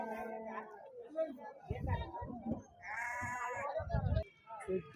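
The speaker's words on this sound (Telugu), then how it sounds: "ఏల్వాడి మేకలు అండి జబ్బర్దస్త్ ఉన్నాయి" Goats bleat at a weekly Saturday market in Dubbaka, with a few drawn-out calls rising over steady nearby talk and background crowd noise.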